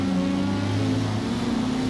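A steady engine drone with a low sustained hum from a Honda Prelude race car in the Forza video game, cruising at constant revs, continuous and fairly close with no talking.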